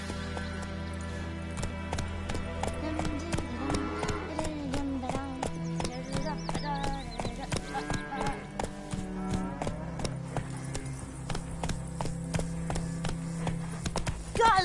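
Geralt's horse Roach gallops in The Witcher 3, steady rapid hoofbeat clip-clops close by, running continuously over ambient music and tonal background, with a louder thump at the end.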